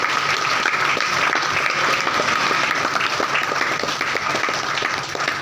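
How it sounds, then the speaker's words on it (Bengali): An audience at a training session breaks into sustained, dense applause, many hands clapping steadily and loudly throughout without pause. "করতালি চলতে থাকবে যতক্ষণ পর্যন্ত তারা তার ট্রেনিং সেশন শুরু করে"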